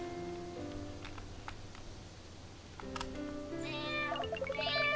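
A cat meows in a video game, with a few short meows heard over looping game music and chiming effects, fairly close and clear.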